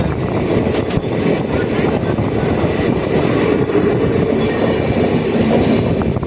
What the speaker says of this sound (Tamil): கோவை எக்ஸ்பிரஸ் வந்துட்டு இருக்குது